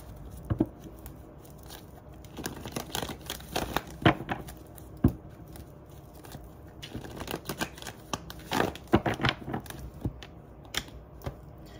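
Tarot cards are shuffled by hand in a quiet room, giving a series of crisp riffling bursts and soft slaps in irregular clusters, close and fairly loud, with no talking.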